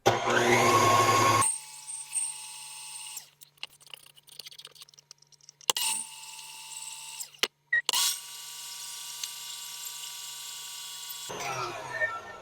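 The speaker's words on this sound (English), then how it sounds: "So now we whisk it until it's mousse-like and thick ribbon trail." An electric whisk whips a chocolate torte mixture until thick, whining loudly in several bursts with short pauses between them.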